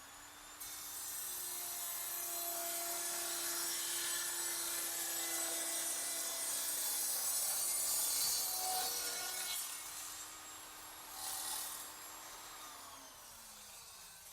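A table saw with a zero-clearance crosscut sled cuts wood: a steady, fairly quiet spinning whine holds for about nine seconds, dips, then surges briefly once more as the blade winds down.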